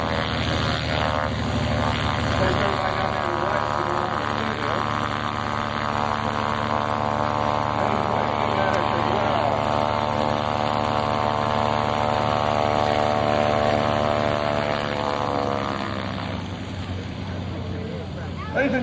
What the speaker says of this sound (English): getting us another little tail spin and flying the airplane up on the main gear